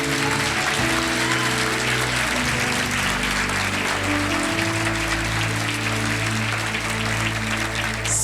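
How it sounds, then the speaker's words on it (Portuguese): A church congregation claps during a sermon, a broad continuous wash of applause over sustained low organ or keyboard chords, steady from start to finish. "Uma salva de palmas para o Rei bendito."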